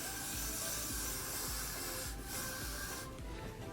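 A continuous aerosol hair spray hisses close up while holding down a wig, with short pauses where the spray briefly breaks before resuming.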